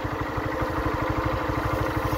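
A motorcycle engine idles close by, its rapid, even low-pitched pulsing chugging steadily for a couple of seconds with no speech.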